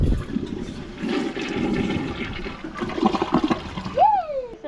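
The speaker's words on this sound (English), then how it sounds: "Here goes the first flush." A toilet in a travel trailer flushes up close with a loud, steady rush of water for about four seconds, then drops off into a brief rising squeal.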